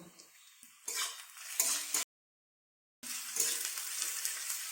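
Steady broadband sizzling of ginger-garlic paste added to fried onions, loud and close, with a brief silent gap midway before the sizzle resumes.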